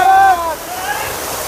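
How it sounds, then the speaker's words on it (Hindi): The Cheryahi waterfall near Sasaram, Bihar, spills from the top of a hill, giving a continuous broad rushing wash of falling water that stays loud and steady throughout, with a brief high whistling tone near the start. "काफी खूबसूरत वाटरफॉल है दोस्तों। आप देख सकते हैं पहाड़ के ऊपर से नीचे ये पानी गिर रहा है।"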